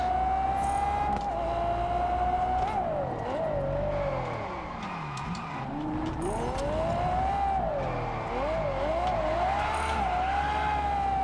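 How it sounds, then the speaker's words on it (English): Three-rotor twin-turbo car engine in the racing video game Test Drive Unlimited Solar Crown, revving loud and continuous with rising and falling pitch through shifts and braking, close and steady for the whole stretch. "that 3-rotor sounds so good"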